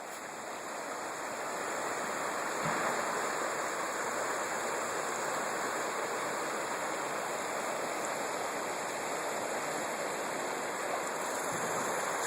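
Gore Creek in Colorado flowing past a fly-fishing spot, a steady broad rushing of river water, continuous and fairly close with no voices.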